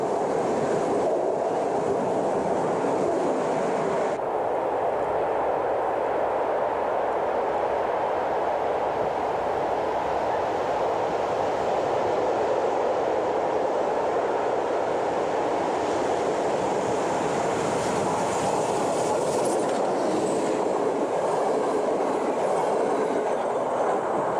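A steam train runs on rails in Poland with a continuous loud rumble and rattle of rolling cars that stays close throughout.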